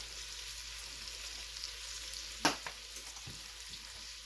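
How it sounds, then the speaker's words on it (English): Vegetables and cayenne sizzle softly in a pot for corn chowder while a spoon stirs them, with a sharp scrape near the middle and a few lighter knocks afterward. "Give that a quick mix together"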